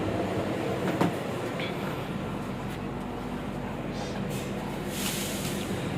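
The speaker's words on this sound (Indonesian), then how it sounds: "ini kita menggunakan loko CC206 1321 Depo Induk Purwokerto" A passenger train hauled by locomotive CC206 1321 from the Purwokerto depot gives a constant, dense rolling rumble heard from on board, with faint squeaks and clicks over the steady roar.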